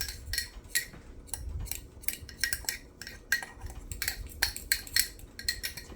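A spoon stirring coffee mug cake batter, rapid clinking and scraping against the sides of a mug in quick irregular bursts, close and fairly quiet.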